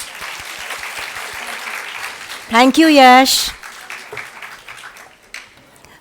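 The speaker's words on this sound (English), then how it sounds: "Can we have a bigger round of applause for Yash?" At the inauguration of a literary festival in Pune, a crowd applauds softly behind a speaker's voice, and a loud whooping cheer briefly rises over the clapping partway through.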